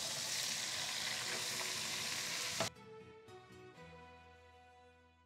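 Sliced onion hits melted butter in a frying pan with a loud, dense sizzle that suddenly drops to a quieter, steady crackle partway through, with no talking.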